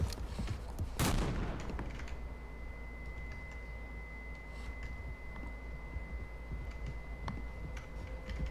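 Gunfire in the horror video game Mouthwashing: one loud sharp shot bursts out early, then scattered faint ticks and clicks follow over a steady low hum, with a thin tone sustained through the middle.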